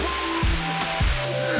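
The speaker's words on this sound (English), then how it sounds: "That's a nice waterfall, right?" Steady broadband rushing of a waterfall in the Waitakere Ranges, West Auckland, New Zealand, a constant hiss without pauses, with faint tonal hums and brief low thumps passing underneath.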